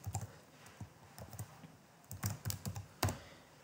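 Keys clacking on a computer keyboard while code is typed, irregular bursts of close, quiet keystrokes with short pauses between clusters and no talking.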